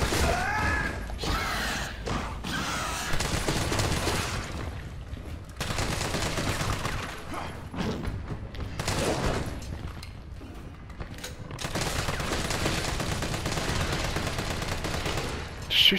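Gunfire aimed at a Hunter creature in a hospital in Resident Evil 3, the video game: repeated loud bursts of shots broken by short quiet gaps, with sparse thuds between volleys.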